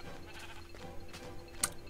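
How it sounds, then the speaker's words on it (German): A sheep bleats faintly at night in the video game Minecraft, a couple of short wavering calls set against quiet background game sound. "Da vorne ist noch ein Schaf, das will geknuddelt werden."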